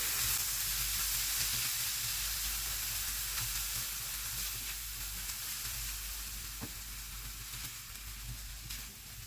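Freekeh frying with softened onion in a pan gives a loud, continuous sizzle and hiss, with a few stirring scrapes as it is turned.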